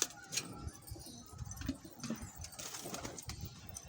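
A pigeon wearing a numbered leg ring coos faintly and softly, with light scuffing and rustling around it in a quiet setting.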